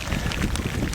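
Rain in northern Kenya falls hard and close, a loud, dense patter mixed with gusty wind noise across the microphone.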